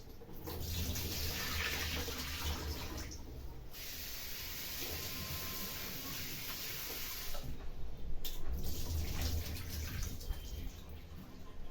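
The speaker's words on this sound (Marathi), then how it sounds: "परत चिरल्यानंतर एकदा धुवून घेऊ" Chopped kartoli, a wild spiny gourd, is rinsed under water, producing a steady close hiss of running, splashing water that briefly drops away twice before resuming.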